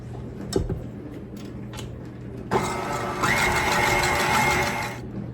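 An electric hand mixer whirs up egg whites for low carb strawberry cupcake batter, starting with a sudden whine and running steadily up close after a few faint kitchen clicks.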